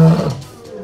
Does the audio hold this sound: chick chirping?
no